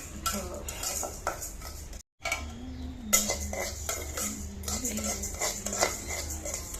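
A spoon stirs and scrapes rice being dry-fried in a pan over a stove, giving steady clinks and scraping strokes with a low background rumble and a brief gap of silence midway.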